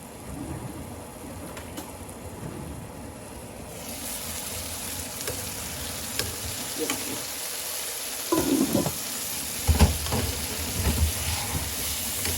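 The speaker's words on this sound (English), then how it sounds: "the ghee will help brown the potatoes and caramelize them" Potatoes frying in ghee give a steady sizzling hiss that swells partway through, with scattered scrapes and clinks of stirring near the end. No one speaks over it.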